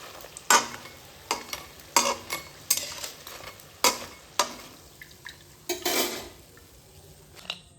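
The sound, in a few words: tomato chips frying in oil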